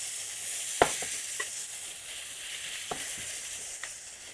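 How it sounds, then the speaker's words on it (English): Steady hiss of mushrooms frying in hot oil runs throughout, with a few sharp clicks and pops from the pan; no one speaks. "Oh, you can hear that sizzle."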